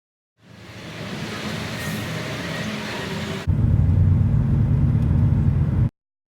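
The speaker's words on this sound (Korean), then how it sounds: "버스는 5시간 반 정도 달려서 뜨랏 버스 터미널에 도착을 합니다" Bus rolling along the road toward Trat bus terminal in Thailand, a steady engine rumble and road noise that fades in, then turns heavier and louder before cutting off abruptly.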